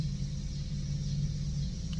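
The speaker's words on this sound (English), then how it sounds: "That's the same mother effing truck from earlier." A truck drives past in a cemetery in Statesville, North Carolina, a low, steady rumble of a road vehicle at moderate distance lasting a couple of seconds.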